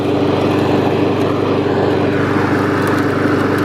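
Brand-new Honda HRX 217 walk-behind lawn mower running steadily outdoors, a loud, close, continuous engine drone with an even rapid pulse and no talk.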